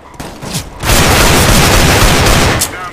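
Desert Eagle pistol shots from the video game CS:GO ring out as a loud, dense burst of gunfire lasting about two seconds after a few quieter sounds.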